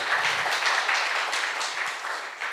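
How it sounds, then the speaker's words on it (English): Audience applause at the start of an academic keynote on Europe's borders, a dense steady clapping from a sizable crowd in a hall that tapers slightly toward the end. "you should applaud in the end, not in the beginning"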